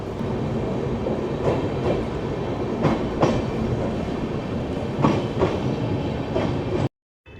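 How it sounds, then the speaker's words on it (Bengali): Darjeeling Mail passenger train underway after leaving Malda station, a steady rumbling roll with repeated clickety-clack wheel beats over rail joints, heard from inside the carriage before an abrupt cut to silence. "মালদা স্টেশন থেকে আমাদের ট্রেন রওনা দিল আমাদের গন্তব্যে"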